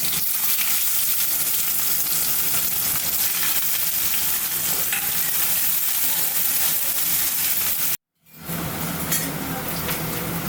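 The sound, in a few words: onions frying in oil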